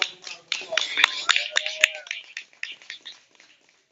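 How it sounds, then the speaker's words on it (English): Scattered clapping and a few snaps from a poetry-night audience greeting a spoken-word poet coming up to the stage, fairly close and tapering off over a few seconds, with murmured voices underneath. "Give her a strong round of applause, y'all."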